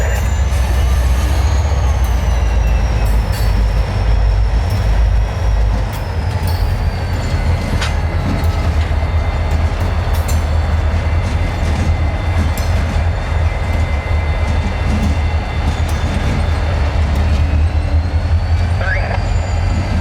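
A GP30 diesel locomotive, just started, rumbles loudly and continuously nearby in the evening, a deep engine drone with faint metallic squeals and clanks over it.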